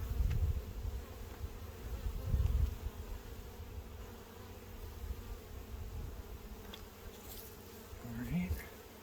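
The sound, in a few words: honey bees buzzing around hive frames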